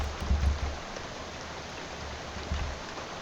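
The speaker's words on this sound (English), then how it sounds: "Miles looks up, lets the rain splash on his face for a while." Steady rain patters on a city street in the video game Shadows over Loathing, a soft continuous hiss with low rumbling underneath throughout, no voices present.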